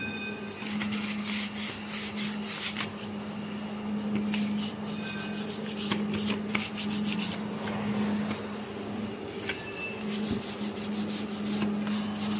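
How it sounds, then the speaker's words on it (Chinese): Sandpaper rubs against the corners of a rigid paper box, a steady close scratchy rasping in repeated strokes over a low mechanical hum from a box-making machine. "使用砂纸打磨边角"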